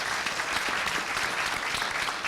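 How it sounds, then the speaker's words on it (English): An audience at a Peekskill High School panel event gives a dense, continuous round of applause, many hands clapping together at an even level throughout. "just a round of applause for everybody here at Peekskill High School"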